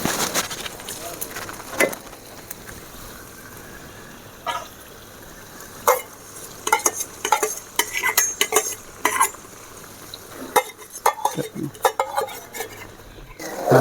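Ginger paste and mustard seeds cooking in hot oil for ginger pickle, with loud metal spoon scrapes and clinks against the pan over a low sizzle, in irregular bursts.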